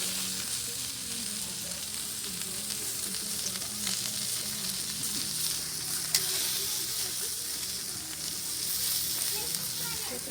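Bratwurst sizzles steadily on a Blackstone flat-top griddle over medium heat, a close, even, hissing fry with a faint tap or two, quiet and uninterrupted by talk.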